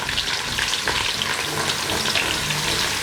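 Grated onion fries in hot oil as it is stirred, a loud, continuous close-up sizzle with crackling and spoon scraping throughout.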